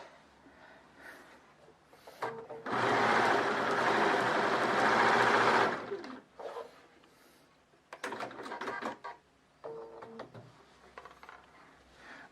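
A Bernina 590 sewing machine runs at stitch length 4 in a fast, steady whir that lasts about three seconds. Shorter bursts of whirring follow, broken by pauses, and a voice is heard between the runs.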